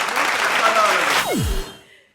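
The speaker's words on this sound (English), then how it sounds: "get a clap, guys" A small group of friends claps together for a short burst, loud and close, with a descending whistle-like swoop cutting through near the end before the noise fades.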